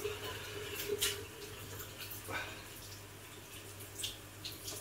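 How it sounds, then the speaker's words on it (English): Running water from a kitchen sink tap as a bowl that held carrot and celery gets a quick rinse, a steady low wash of flow with faint splashes and a few small knocks, quiet and alone. "This bowl can go into the sink just for a quick rinse."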